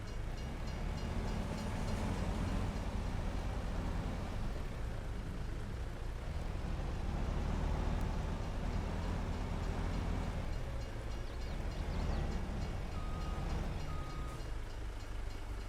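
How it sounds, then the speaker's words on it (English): A train passes on a forest route in an Xbox game, a loud continuous rumble and rolling rattle of wagons that builds and swells across the whole stretch. "Oh, there's a train."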